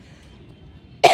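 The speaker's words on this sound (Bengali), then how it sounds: "আমাদের দুজনেরই কাশি হচ্ছে" A single sharp cough from someone who has a cold, bursting out loud and close at the very end after near silence.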